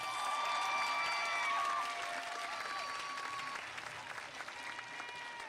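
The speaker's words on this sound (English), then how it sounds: "Let's give our families a round of applause." A commencement ceremony crowd applauds graduates' families, sustained clapping with some cheering and whistles over a large outdoor-sounding audience, fairly distant and steady before easing off slightly.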